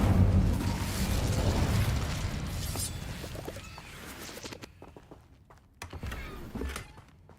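A burst of the Incendio fire spell in the Hogwarts Legacy video game, a loud whooshing, rumbling blast that fades over several seconds, followed by a few softer thuds and crackles.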